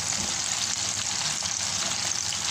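Carrots and potatoes fry in a pan for tiped ulam with beans, a steady close hiss and crackle of oil that holds even and unbroken throughout.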